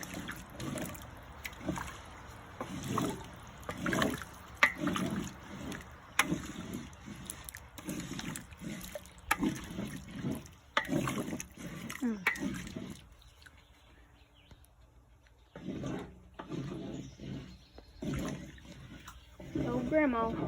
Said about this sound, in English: We're going to stir this good.